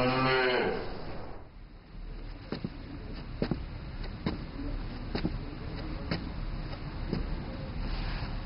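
Cattle in a herd mooing, a short low call at the start followed by steady background rumble with faint repeated clicks, fairly quiet and distant.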